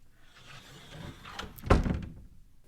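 A door is pushed open in a horror story: a soft creak, then a single dull thunk, close and fairly loud, fading into quiet.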